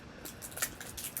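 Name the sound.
scissors cutting clear packing tape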